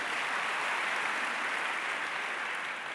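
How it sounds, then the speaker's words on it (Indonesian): A church congregation breaks into enthusiastic applause during a sermon. The dense, even clapping is sustained at full strength for the whole stretch, like a wash of noise from a large crowd. "Yang setuju berikan tepuk tangan yang meriah."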